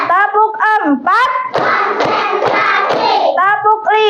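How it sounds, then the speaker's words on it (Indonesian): Children in a classroom clap a four-beat pattern, loud and close, the claps forming a dense burst between stretches of children's chanting voices. "tepuk empat,"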